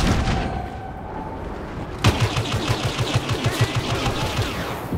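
Blaster fire in Star Wars Battlefront opens with a sharp crack a couple of seconds in, then settles into a steady, rapid stream of evenly spaced shots over rumbling battlefield ambience.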